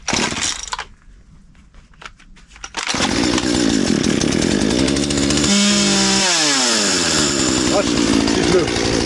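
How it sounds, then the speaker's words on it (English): A gas chainsaw roars to life after a few seconds of quieter rustling and handling noise, then runs loud and close as it cuts into a tree at a small cabin, its pitch dipping and rising under load. "this may not be the day for me to be using a chainsaw"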